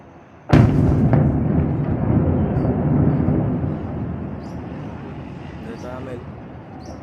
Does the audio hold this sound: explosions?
yes